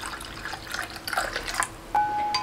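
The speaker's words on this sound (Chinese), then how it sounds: "再倒入一碗清水" Clean water pours from a bowl into a seasoning mix of salt, soy sauce, vinegar and oyster sauce, a close, gurgling splash of liquid that swells partway through and settles into a steadier trickling pour.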